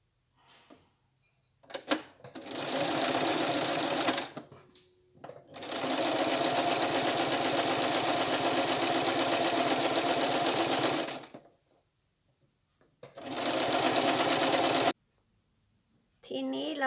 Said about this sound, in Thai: ก็จะมาเย็บตรงรอยพับ